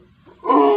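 A brief elephant call rises suddenly from quiet into a loud, harmonic moaning rumble, close by and cut off abruptly.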